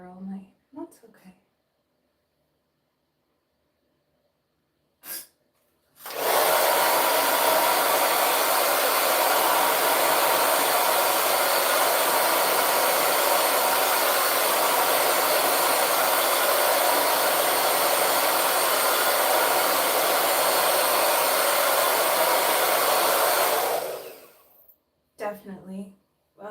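A hand-held hair dryer roars loudly and steadily for about eighteen seconds while blow-drying long 4c hair, with brief clicks before it switches on and after it cuts off.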